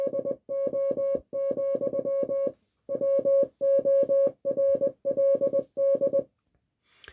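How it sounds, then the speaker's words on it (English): Morse code spelling "Hello World" plays as a clean electronic tone of short and long beeps in rhythmic groups, with clear pauses between letters and words, steady and moderately loud for about six seconds. "So this is Hello World in Morse code."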